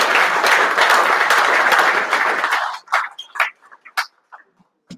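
An awards-night audience applauds Dandenong Cricket Club, dense clapping from a crowd for a few seconds that abruptly thins into a handful of scattered, fading claps.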